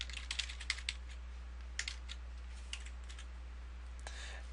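Keys on a computer keyboard clack as a website address is typed, a quick, close run of light clicks in short bursts with brief gaps, fairly quiet over a low steady hum.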